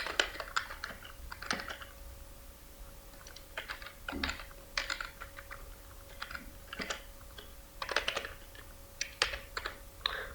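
HTML code is typed on a computer keyboard in irregular bursts of quiet, close key clicks with short pauses between words and no talking.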